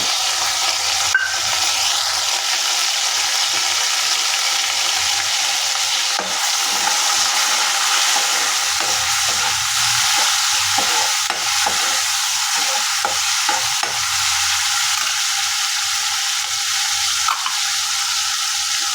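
Onion and tomato sizzle steadily in a hot pan while a spoon stirs and scrapes through them, a continuous frying hiss with intermittent stirring scrapes and no talking.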